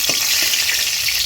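Cinnamon and bay leaves sizzling in hot oil in a pan, a loud, dense, steady hiss heard up close for about a second.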